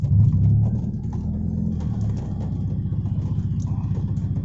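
A Toyota 4A-FE engine in an AE92 with a carburetor and a hard-starting problem idles with the air conditioning on, a steady low rumbling throb. It is slightly louder at first, then settles to an even, regular pulse.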